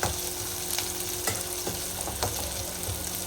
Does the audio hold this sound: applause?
no